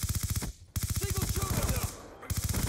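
Fast automatic weapon fire in Call of Duty, tight rhythmic bursts that stop briefly and resume, with a voice speaking during the quieter gaps.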